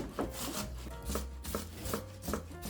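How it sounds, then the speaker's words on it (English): Fresh tomatoes being grated by hand for a seafood saffron rice, giving steady rhythmic rasping strokes, close and moderately quiet, with no talking. "Grating the tomatoes keeps everything fresh so that the saffron and the seafood can really shine."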